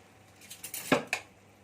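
Spices tipped into a pot of lentils, heard as a few light metallic clinks and one sharper tap of a spoon against the pot, quiet and brief with no talking.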